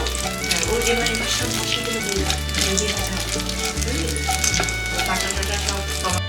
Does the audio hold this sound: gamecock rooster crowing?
no